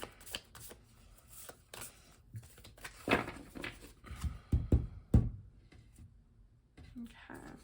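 Tarot cards are shuffled by hand in a series of close, soft riffling and slapping bursts, with a few sharper taps near the end.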